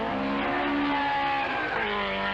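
A Talbot Sunbeam rally car driven by Russell Brookes at a rallysprint gives a loud, sustained engine roar as it drives at speed, with the engine note shifting slightly as it revs.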